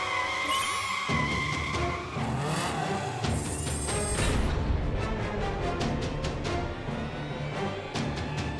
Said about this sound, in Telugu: వాడు చాలా వేగంగా కార్ని డ్రైవ్ చేస్తున్నాడు కికో.